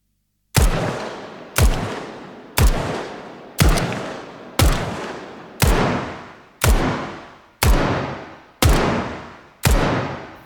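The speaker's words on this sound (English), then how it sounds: "Let's shoot another 10, but have the gun tail switch to indoors after the 5th" Ten evenly spaced gunshots, about one per second, each a sharp loud crack trailing into a decaying tail; the first five ring out with an open outdoor tail, the last five with a shorter, boxier indoor reverb.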